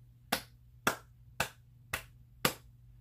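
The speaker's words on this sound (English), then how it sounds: "Big hands and some big hand claps." Five crisp hand claps at an even, deliberate pace, each sharp and isolated against a quiet low hum.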